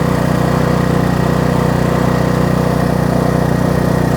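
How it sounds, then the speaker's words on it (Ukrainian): A Kraft&Dele KD681 inverter generator runs at a steady, loud engine drone with an even, unbroken hum and no voices over it. "генератор запустили"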